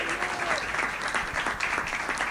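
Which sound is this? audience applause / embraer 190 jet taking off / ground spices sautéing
audience applause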